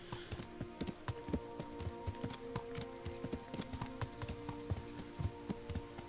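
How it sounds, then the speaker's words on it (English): Horse hooves clip-clop steadily at a walking pace in the medieval Kingdom Come: Deliverance video game. The quiet, even beats sit over a low hum with faint tack jingles. "we can have a little horse ride and enjoy the view"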